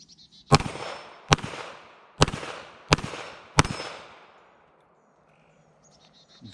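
Five sharp reports from a Kel Tec PMR 30 pistol firing at steel targets outdoors, each crack followed by a ringing decay, spaced roughly evenly before quiet returns.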